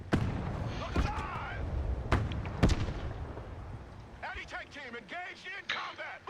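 An anti-tank team trades fire in the war game Broken Arrow: sharp, loud gunshot and explosion bursts crack out at irregular intervals, then fade as a voice talks over the later part.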